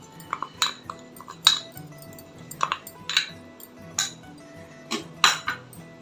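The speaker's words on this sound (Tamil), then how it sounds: "இப்போ வந்து நம்ம மில்க் பவுடரை ஆட் பண்ணிக்கலாம். கட்டிகள் இல்லாமல் நல்லா கலந்து விடுங்க." Milk powder being stirred into boiling milk in a pan for milk burfi, with a spoon repeatedly clinking and scraping against the metal pan in a series of close, bright taps.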